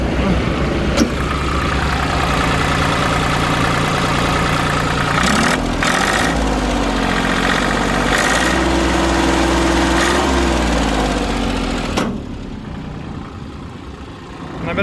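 A 16 hp Iseki TU165 three-cylinder 2WD tractor engine runs loudly and steadily close by after starting, its pitch shifting as revs change, then dropping away toward the end.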